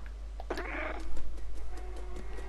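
A cat meowing in Stray, a single clear close meow followed by fainter chirping sounds over a constant low hum.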